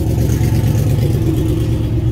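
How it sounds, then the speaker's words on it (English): Drag race car engine running steadily and loudly up close, a dense low rumble with no clear break, consistent with a turbocharged engine bogging and then spooling back up. "If you listen, the car bogged a little bit, then the turbo had to come back online."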